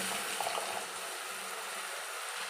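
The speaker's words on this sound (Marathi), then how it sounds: "खूप पाणी घालून घेऊया" Water pours steadily into raw mango chutney, a soft continuous splashing and gushing that stays faint and even for a couple of seconds with no talking.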